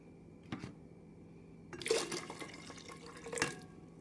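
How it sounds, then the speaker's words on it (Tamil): Water poured in from a cup onto ground rice and coconut batter for appam, a few splashing and trickling bursts, soft and close, with quiet pauses between them. "நாம் இதனுடன் 2 கப் தண்ணீர் சேர்த்து விடலாம்."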